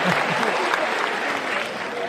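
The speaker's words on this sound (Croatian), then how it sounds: "To je taj težak aplauz" Loud, dense applause from a stand-up comedy audience for Croatian comedian Goran Furjan, a close wash of many clapping hands sustained throughout with a faint crowd murmur beneath.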